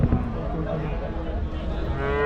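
Cattle moo at a weekly cattle market in Namakkal, low drawn-out calls mixed with crowd chatter and general market noise.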